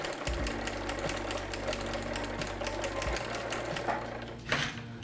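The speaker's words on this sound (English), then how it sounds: "press your pedal to begin winding the bobbin" A domestic sewing machine winds thread onto its bobbin, giving a steady, close, continuous motor whir with a faint rhythmic rattle and no talking.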